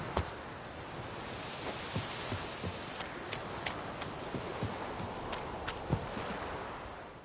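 Hooves of Roach, Geralt's horse in The Witcher 3: Wild Hunt, clip-clop in an irregular walking rhythm, moderately close over a soft rustling outdoor ambience, with no talking.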